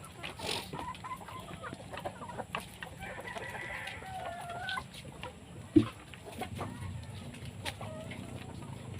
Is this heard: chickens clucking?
yes